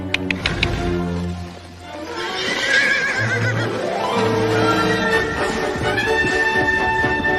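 A horse gives a loud, drawn-out neigh within a busy television commercial soundtrack, with music and other effects layered around the whinny.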